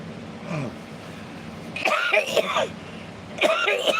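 A man coughs and clears his throat twice during a casual live chat, two short rough bursts standing out above steady room noise.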